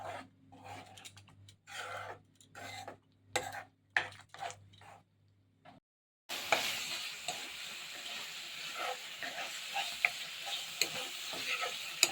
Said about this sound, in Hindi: अब इसको हम पकने के लिए छोड़ेंगे. बीच बीच में चमचा चलाते ही रहेंगे.